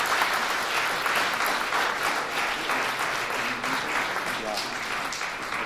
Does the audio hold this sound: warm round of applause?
yes